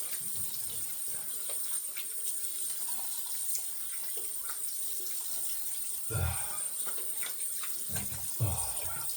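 Running tap water rinsing a late-1960s Gillette Knack razor at a sink, a steady close splash with a few louder gushes near the end as the razor is moved under the stream.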